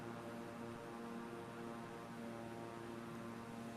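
A propeller airplane engine in Flight Simulator drones steadily, its low harmonic hum constant and unbroken, with no talking over it.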